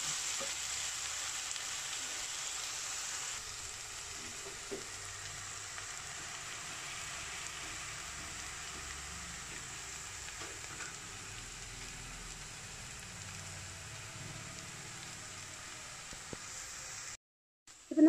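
Onions and green masala sautéing in a pan for a prawn roast, a faint, even sizzle carrying on steadily with a few light taps, cut off abruptly near the end.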